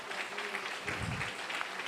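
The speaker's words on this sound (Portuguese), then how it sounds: "Dá um aplauso bem forte para o Senhor Jesus." A church congregation claps together in a steady, lively round of applause that fills the room, with a low murmur of voices underneath.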